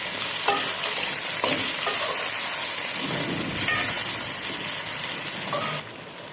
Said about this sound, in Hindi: और इनको थोड़ा फ्राई होने देंगे।